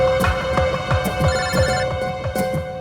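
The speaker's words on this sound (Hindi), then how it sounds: "शिव साहब का" Telephone ringing in an indoor room, a loud repeating electronic ring with a regular throbbing pulse, close and alone with no talk over it.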